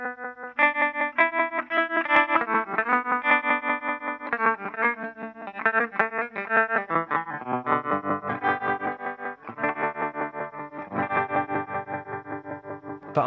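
A distorted electric guitar runs through an Electro-Harmonix Nano Pulsar tremolo pedal, chords and single notes chopped into a rhythmic pulsing volume wobble, played alone and up close.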